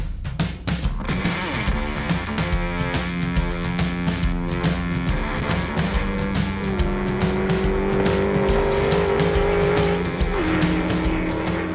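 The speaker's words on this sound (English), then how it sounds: "In this state, drag racing isn't just for professionals." Drag racing cars on an Arizona airstrip, loud engines revving and roaring down the strip with rising gear pitch, sharp staccato bangs and tire squeal, close and continuous.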